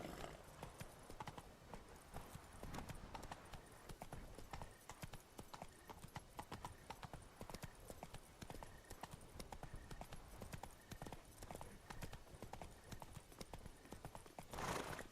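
Horse hooves clip-clop at a gallop in The Witcher 3, a steady fast drumming that runs throughout under game ambience and music, with an occasional neigh.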